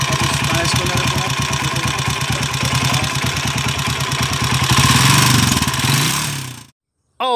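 A noisy motorcycle engine idles close by with a loud, fast, steady rhythmic chug before its engine block is replaced, running evenly until it cuts out abruptly near the end.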